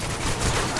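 Rapid AK-47 gunfire aimed down the iron sights in a Call of Duty game, a dense continuous burst of shots filling the whole moment at steady loudness.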